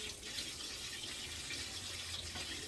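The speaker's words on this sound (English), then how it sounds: "So I want this to be cold water." Cold water runs steadily from a kitchen tap, a continuous close hiss and splash that holds at an even level throughout, with no talking.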